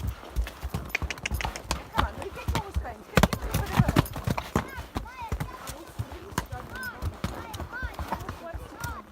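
Horse hooves clip-clop in a quick, uneven rhythm as someone rides near a volcano, close and clear, with a rider's voice calling out encouragement over the steps.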